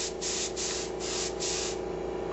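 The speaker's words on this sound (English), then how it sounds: "You gotta watch the overspray." Spray gun laying a coat of paint on a hot rod, several steady hissing bursts of overspray with short gaps between them, close and continuous over a low shop hum.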